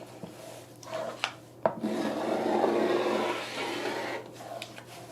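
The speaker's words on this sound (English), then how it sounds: "So now I'm going to cut them apart and trim them to make our pillow." Scissors cutting apart embroidered fabric and stabilizer for a pillow cover, with a few sharp snips followed by longer rough rasping cuts at close range, no talking.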